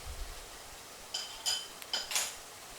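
Teaspoon clinking against a dish while palm sugar is added for a Thai chicken Panang curry, a handful of bright metallic taps in two quick pairs, close and crisp over a quiet room.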